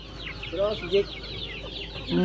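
Native and Red Island chickens cluck repeatedly on a rural farm, several birds close by in short broken bursts, with a voice talking briefly and a louder cluck near the end.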